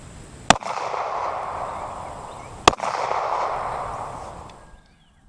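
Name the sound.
9mm handgun shots fired at polyurea slab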